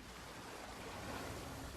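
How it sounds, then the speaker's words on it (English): Roaring ocean waves crash as a steady, loud wash of surf that stays dense and unbroken throughout, with no voices. "facing the roaring ocean"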